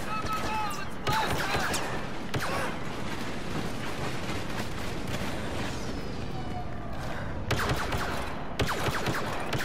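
Blaster fire from a Star Wars video game crackles in dense, continuous bursts, with sharp louder volleys standing out over a busy battle din.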